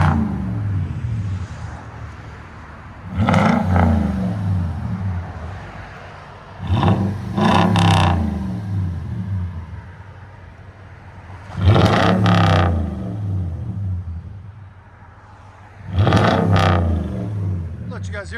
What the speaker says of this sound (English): Toyota Tundra FLOWMASTER True Dual Super 10.